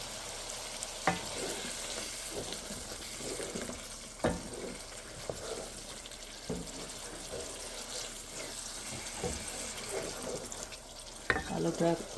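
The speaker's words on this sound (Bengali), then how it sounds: "আলুটা আগে একটু কষিয়ে নেই" Potatoes for a meat and potato curry fry in a pan with a continuous sizzle, broken by scraping stirs and a few clinks of the utensil.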